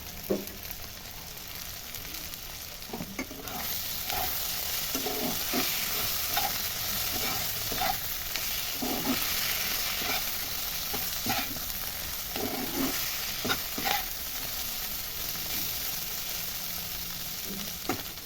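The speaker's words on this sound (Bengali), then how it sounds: "চিংড়িটা দিয়ে খানিকটা নাড়াচাড়া করে নিয়েছি" Small prawns and green tomato stirred and frying in a pan, a steady close sizzle with repeated scraping strokes of a spatula throughout, no voices.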